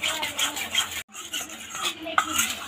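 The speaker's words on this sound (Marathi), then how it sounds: "हे मिश्रण असं एकजीव करून घेऊया।" Spoon scraping and clinking around a bowl while stirring a spiced batter with chilli and coriander powder, a continuous close stirring sound with a brief pause midway and no talking.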